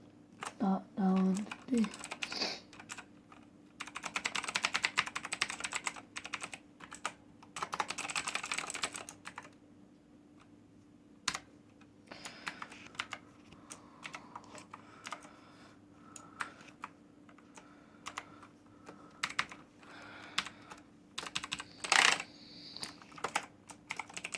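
Typing on a Sky Digital keyboard with good key feel, dense runs of near clacking keystrokes in bursts with short pauses, occasional brief speech mixed in.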